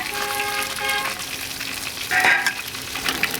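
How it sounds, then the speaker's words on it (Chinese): Crucian carp fry in a hot pan with a steady, dense sizzle that crackles and spatters throughout, with a brief sharper burst of hissing midway and a faint tonal hum in the background. "这个鱼呢要煎一下才好啊，"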